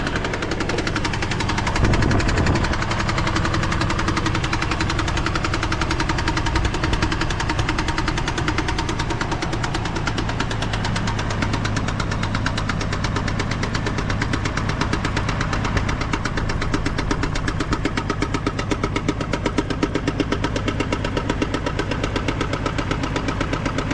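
A GMC Envoy engine runs continuously with a loud, steady rumble and a persistent rapid knocking tick throughout, heard up close with no talking.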